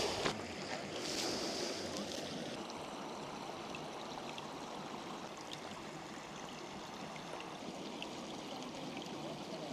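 Steady wash of running water at a lake, a broad continuous rush heard up close with some wind buffeting the microphone and no talk.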